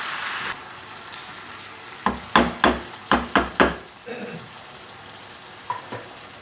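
A spoon scrapes and knocks through potatoes and fenugreek leaves in a pan, six sharp close strokes in a quick run, then a few softer taps over a low background hiss.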